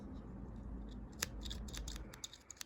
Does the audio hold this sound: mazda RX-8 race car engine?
no